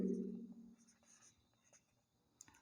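A pen scratches out physics notes on paper in short, faint strokes close by, with a brief low voice at the start and a small tap near the end.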